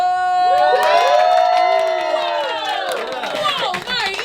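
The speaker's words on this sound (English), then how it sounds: "That applause, that was for you." A close-up magic show audience at the Magic Castle cheering and whooping loudly with scattered clapping, a dense mix of excited shouts and voices throughout.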